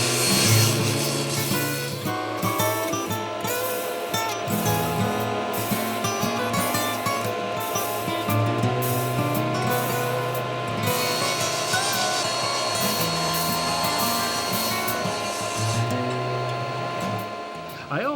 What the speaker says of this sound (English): My first step is to cut the front and back of the shelf to length, based on the size of the cabinet opening.